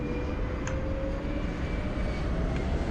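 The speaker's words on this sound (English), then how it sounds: "we are over here in the DC Designs Concorde on our way to London Heathrow" Simulated Concorde jet engines roar steadily from the cockpit of the DC Designs Concorde in Microsoft Flight Simulator 2024, cruising toward London Heathrow; a continuous broadband rumble with a faint high whine holds evenly throughout.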